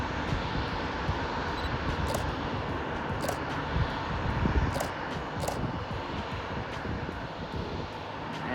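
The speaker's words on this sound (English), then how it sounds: "that aircraft is just starting to taxi out into the runway" A Delta E175 regional jet taxiing at Sacramento airport after pushback, heard as a steady, moderately distant engine roar with wind across the whole stretch and no talk.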